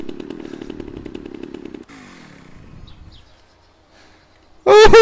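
Video game chainsaw revving with a steady buzzing drone, then winding down into sputtering and quiet, before a sudden loud shout at the end.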